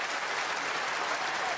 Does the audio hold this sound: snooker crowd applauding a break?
yes